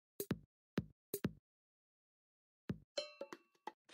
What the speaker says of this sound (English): The drums.